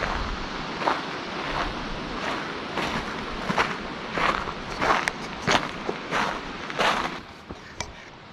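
Footsteps climb a dirt trail toward a cave near Fish Creek Hill on the Apache Trail. About a dozen fairly regular crunching steps sound at close range over faint outdoor background.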